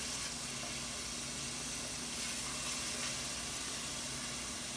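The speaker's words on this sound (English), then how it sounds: "Once it really starts sizzling like that, just turn the heat down a little bit" Shallots and garlic sizzle steadily in a hot pan, a dense crackling hiss that stays constant and close throughout.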